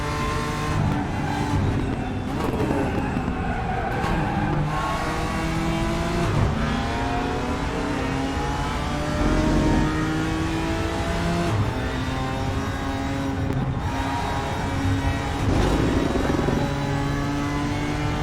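GT3 race cars lap the Bathurst circuit in RaceRoom Racing Experience, engines revving and shifting gears through the whole stretch with rising and falling whines, several cars close together, no talk.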